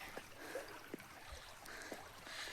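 Water runs without pause through an irrigation channel beside farm fields, a steady faint rushing with soft gurgles and small splashes scattered through it.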